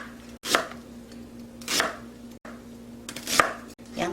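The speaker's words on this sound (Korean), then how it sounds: "양파 썰어보고요" Onion being chopped with a knife on a board while making a beef and mushroom hot pot, a few distinct crisp cuts spaced about a second apart, close and clear with no talking.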